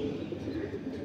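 A pigeon coos softly in a loft of breeder pigeons, giving a brief low burbling note against a dense, muffled background.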